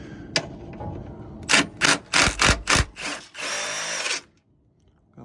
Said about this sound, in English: So those are the bolts. I'm gonna take those off right now.